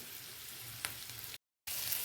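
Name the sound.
mushrooms frying in a pan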